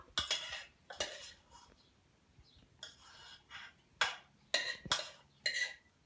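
A spoon transfers low-carb berry jam into a jar. It makes several sharp clinks and scrapes in irregular bursts against glass, with quiet gaps in between.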